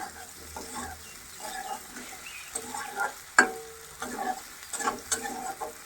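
Potatoes are stir-fried with spices in a pan, a gentle sizzle broken by repeated scraping and clinking strokes of a spatula at an irregular pace, close and moderately quiet, with no voices.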